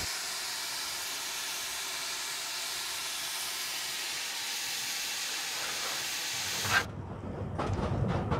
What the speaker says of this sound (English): This is an old steam train.